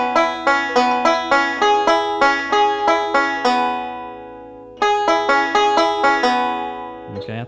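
Banjo picks steady forward rolls, a clear plucked note pattern repeating evenly for several seconds, pausing briefly, then resuming; close, bright and without talking.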